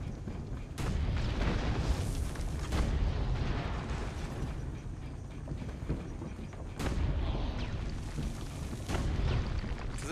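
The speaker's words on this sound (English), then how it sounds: "This tank might be more effective than modern tanks. Due to how fast it fires." Rapid cannon fire from Leonardo's wheeled tank, a wagon bristling with cannons, in Assassin's Creed Brotherhood: repeated loud, close booming salvos in two waves, each a dense roaring burst that rumbles on between shots.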